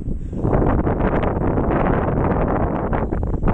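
Strong wind on top of a bridge in San Marcelino, Zambales, Philippines buffets the microphone in loud, continuous rumbling gusts, roaring steadily for the whole stretch with no voices.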